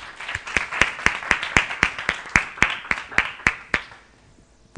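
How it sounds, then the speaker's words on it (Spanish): Applause for Jerónimo López at a T3chFest 2014 tech conference talk: about fifteen sharp, evenly spaced claps in a steady rhythm, close and fairly loud, stopping cleanly near the end with no talking. "un aplauso para él"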